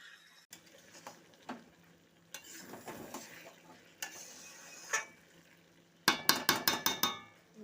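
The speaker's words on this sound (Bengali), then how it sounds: "তরকারি একবার খুলে নিয়ে আমরা নাড়িয়ে নিলাম" A spoon scrapes and stirs fish head muri ghonto curry in a pot, with scattered clinks and sloshes, then a quick burst of rapid rhythmic knocks against the pot near the end.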